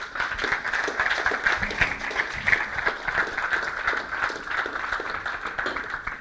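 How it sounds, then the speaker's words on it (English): A congregation gives a round of applause at a religious law class, steady moderate clapping from many hands sustained throughout without speech. "Let's give the Most High a round of applause for that."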